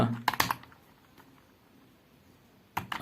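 Taps on a mobile phone's on-screen keyboard while Bangla text is entered: a quick cluster of light clicks at the start, a quiet pause, then a few more taps at the end, close and clear with no voices.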